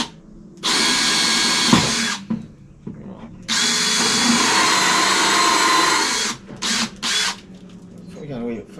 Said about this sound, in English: I've got this hole saw which we're going to drill a hole out of.